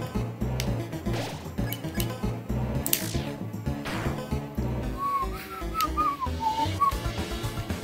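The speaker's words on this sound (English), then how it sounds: "There we go, I can whistle today." A person whistles a short wavering tune over loud, busy video game music and crashing hit effects while playing Undertale, the whistle emerging thinly near the end.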